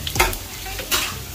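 Battered frog sizzles as it deep-fries in a pan, a soft continuous crackle with a couple of brief louder hisses, close by and alone.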